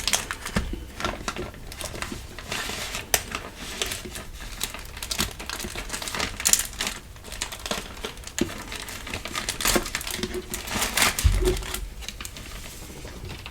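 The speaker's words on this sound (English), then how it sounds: "Definitely do not miss the loud tissue paper." Loud tissue paper from a Spellbinders card kit crinkles and rustles in irregular bursts during unboxing, close up and alone with no talking.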